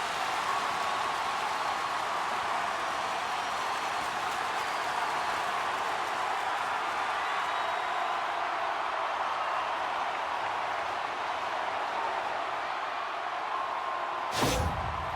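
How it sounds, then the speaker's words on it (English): A hockey arena crowd roars after a Generals goal early in the first period, a dense, steady wash of cheering and applause that holds level, with a sharp knock near the end. "The Generals crowd has really come to life here early in this first period after that goal."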